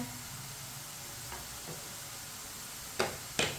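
Bitter gourd (karela) pieces fry in hot oil with a soft, steady sizzle, broken by a few faint stirring ticks and two sharper clinks of a utensil near the end.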